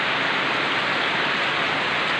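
Steady, dense rain pattering down without a break, a broad hiss of drops striking plants and surfaces nearby, with no voices.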